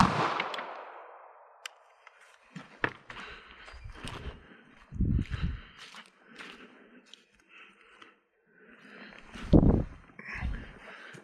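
A single 9mm Luger shot fired with a 147-grain bullet gives one sharp, loud crack at the start that decays quickly, followed by scattered quieter clicks and handling noises.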